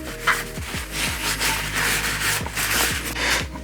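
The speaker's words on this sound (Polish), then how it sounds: "gniazda w środku i ręcznikiem papierowym wycieram" Paper towel wiping and rubbing inside the socket of a Crosman A4P air gun during cleaning, a steady close scrubbing friction with a few soft knocks, no talking.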